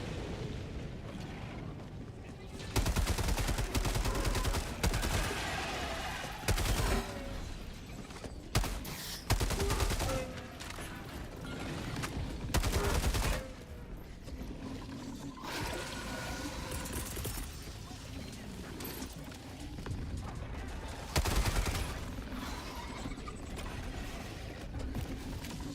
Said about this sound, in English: He's got the traitor barrage firing at him.